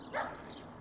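A dog gives a single short bark or yip on a street walk in Regina on a cool Sunday morning, fairly distant and brief against quiet outdoor background.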